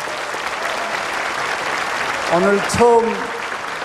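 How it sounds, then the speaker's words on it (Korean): Church congregation applauding during a service: steady broadband clapping fills the clip, with a voice speaking over it near the end. "우리 하나님께 박수 올려 드리십시다."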